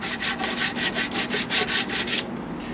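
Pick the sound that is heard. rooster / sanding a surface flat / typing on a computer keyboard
sanding a surface flat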